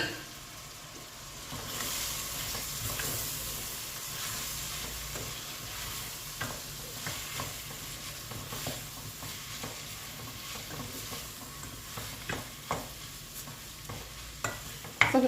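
Garlic and onion sizzle steadily in a pan, and boiled potatoes and spinach are added for a spinach soup. Scattered light scrapes and taps of stirring sit over the continuous frying hiss, close and moderately loud.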